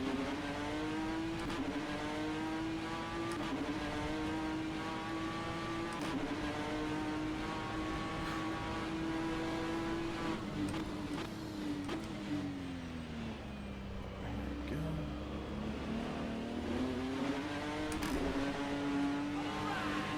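A British Touring Car Championship NGTC race car in rFactor 2 roars steadily under throttle, engine pitch climbing through gears with brief dips at shifts, loud and continuous with no talk.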